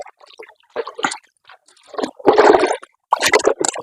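Water splashed in bursts while feet are washed, with irregular wet slaps and splatters close by, separated by short silences and growing heavier toward the end.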